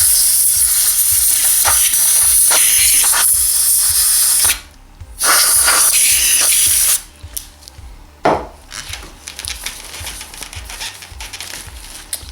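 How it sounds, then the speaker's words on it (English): Loud, close hissing bursts of compressed air blasting through a Suzuki RF 900 motorcycle carburetor, sustained at first, then a short gap and shorter, quieter puffs. "Bit of compressed air."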